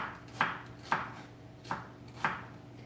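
Four knife strokes chop through onions on a board at an even pace, each a crisp, close thud over a faint steady room hum.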